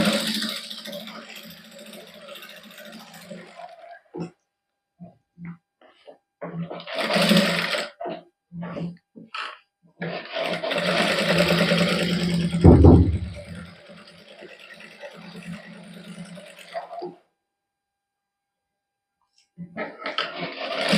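A sewing machine stitches the neckline of a cotton suit in a boutique, its motor whirring in sustained close bursts separated by pauses, while someone talks at intervals.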